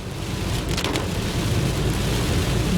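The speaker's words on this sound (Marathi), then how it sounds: "मस्त पाऊस पडतोय" Steady, heavy monsoon rain falls over a dam catchment area with a constant dense hiss, close and loud, with low rumbling wind underneath.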